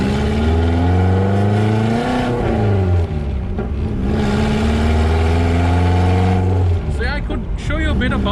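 A vintage car's engine while driving, a loud, steady mid-pitched drone that shifts pitch with gear and speed changes, with someone talking over it near the end.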